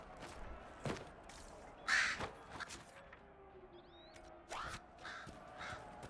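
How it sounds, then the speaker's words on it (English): A crow in Dragon Age Inquisition gives several harsh, rasping caws spaced across the stretch, fairly close against a quiet game ambience. "That crow doesn't sound healthy."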